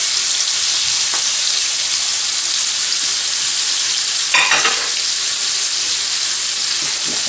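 Onions and a whole head of garlic frying in oil in a pan, giving a loud, steady close-up sizzle that holds throughout, with one brief louder crackling burst near the middle.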